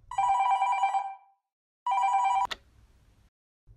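A telephone rings with two electronic bursts of about a second each separated by a short pause, followed by a click as the call is picked up and faint low room noise.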